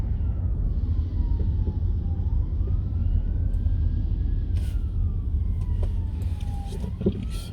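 A police car siren wails on a flooded London street, rising and falling as it passes at a moderate distance over a steady rumble of traffic.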